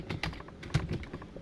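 Quick keystrokes on a computer keyboard enter an AutoCAD trim command, a short burst of close, crisp clicks.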